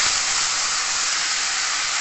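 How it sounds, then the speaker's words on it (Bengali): Soaked, drained Gobindobhog rice hitting a hot pan with cumin, giving a loud, even, continuous sizzling hiss for a couple of seconds. "এই ভেজানো চালটা দিয়ে দেবো।"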